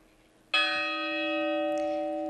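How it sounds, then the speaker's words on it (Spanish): A church bell of the Carmen de San Isidoro, heard during a Holy Week Viernes de Dolores procession in Zamora, is struck once loudly and left ringing with a sustained bright, shimmering hum. "Esa campana que acaba de sonar supongo que es la del Carmen de San Isidoro."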